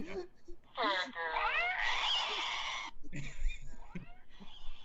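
An angry cat yowls and caterwauls in long wavering wails, played back from a clip, with people talking over and around the sound.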